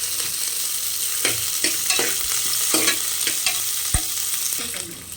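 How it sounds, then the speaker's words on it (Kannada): Chopped onion and ginger stir-fried in a hot pan for a country-style chicken sambar: a steady sizzle runs throughout, broken by repeated scraping strokes of a spoon, close and fairly loud, with no talking. "ಚೆನ್ನಾಗಿ ಕಲರ್ ಚೇಂಜ್ ಆಗೋವರೆಗೂ ಹುರ್ಕೊಬೇಕು."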